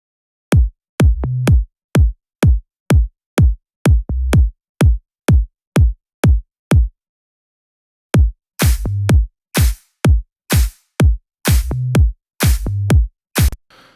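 Punchy electronic tom hits from a dance remix of Wellerman sound alone in a steady rhythmic pattern, each tom decaying quickly, with a brighter, noisier layer joining the hits in the second half.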